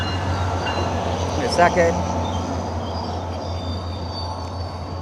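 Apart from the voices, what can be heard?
passing train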